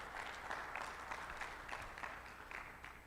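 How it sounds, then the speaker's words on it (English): Audience applause at a Mid-America Pop Warner region meeting, a continuous patter of clapping from a modest crowd, fairly quiet and even throughout. "So if we can give those guys a round of applause,"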